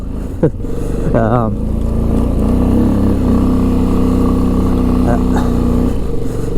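A 2005 Honda Rincon 650 4x4 ATV runs through snow in automatic drive, its engine droning steadily and loudly up close with brief shifts in pitch, while someone talks over it.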